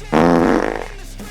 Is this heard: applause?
no